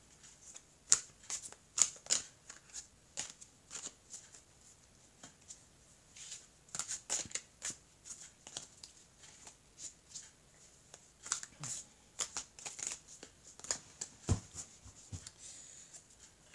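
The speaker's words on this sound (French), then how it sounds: "Je vais couper le jeu et je vais donc recouvrir le jeu." An oracle card deck being shuffled and cut by hand: a quiet, irregular series of crisp riffles, slaps and taps with short pauses, and no one speaking.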